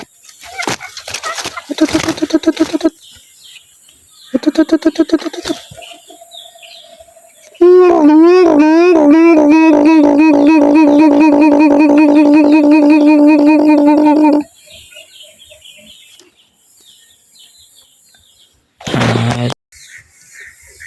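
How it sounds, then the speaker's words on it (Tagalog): Pet birds, alimokon doves and crossbreeds, calling loudly and close: rhythmic cooing bursts, then a long run of repeated chirping calls, then quieter sounds and a final short call. "Update ko lang kayo sa aking mga alaga mga ibon."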